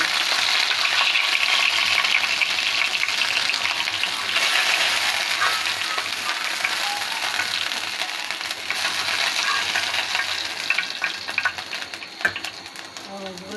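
Chicken pieces fry in a kadai for a chicken roast, giving a loud, continuous hissing sizzle with a crackling texture that stays close and steady throughout.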